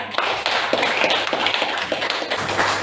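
Students in a classroom give a round of applause for their classmate Satria, a steady patter of many hands clapping close by, irregular and continuous from start to finish.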